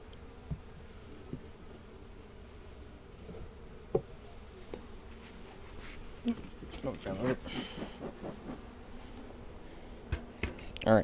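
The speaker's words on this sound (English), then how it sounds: "Hear a chorus of disapproval from these bees." Honey bees buzz in a continuous drone during a hive inspection, with occasional louder passes close by, plus a few soft knocks and handling sounds.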